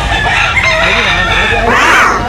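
A rooster crows loud and close in one long call, gamecocks for sale nearby, with a crowd murmuring in the background.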